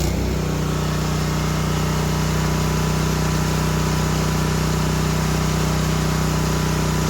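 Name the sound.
Winco HP9000E generator engine running with idle turned off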